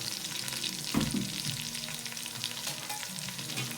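Onion and stock cubes frying in hot oil for a Nigerian pigeon pea dish, with a steady close sizzle broken near the start by a brief clatter as ingredients go into the pan.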